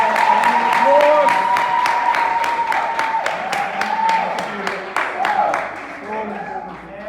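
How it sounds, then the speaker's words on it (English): Audience members at a leadership workshop clap in a sharp, irregular patter while voices talk and call out over the applause, which thins toward the end. "Can we give our applause?"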